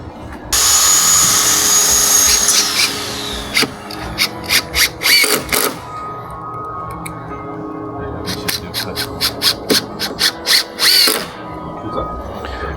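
Power drill driving screws into an Infinity Hinge on a wooden gate post, a long whirring run followed by a series of short, rhythmic bursts of the driver, close and loud.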